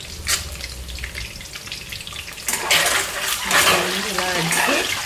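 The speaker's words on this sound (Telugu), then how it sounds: "ఇట్లా మంచిగా ఆయిల్లోని వేయించేసుకోవాలి." Steady sizzle of ingredients frying in hot oil for an egg curry, a close, continuous hiss that grows louder and busier in its second half, with faint voice-like sounds underneath.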